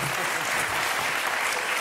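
A studio audience on a French television talk show claps in steady, dense applause, with no break for its whole short length.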